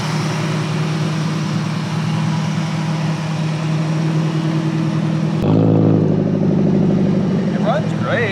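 A new car's engine running, a steady rumble that shifts partway through into a louder, rougher rev, with people talking over it.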